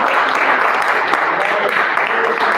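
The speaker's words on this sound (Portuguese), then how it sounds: "Aplaudindo bem forte em nome de Jesus." A church congregation applauds loudly in a dense, steady wash of clapping that fills the whole moment without pause.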